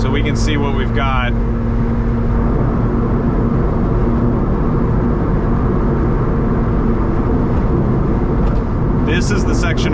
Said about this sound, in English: This is the section of road that's very loud, as you can tell from the tires and just the pavement.